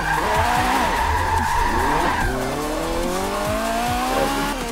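Tyres squeal and skid as a Renault Clio Williams is flung through a handbrake turn in the Forza Motorsport 7 racing game, the loud screech laid over a revving engine for several seconds with no talking.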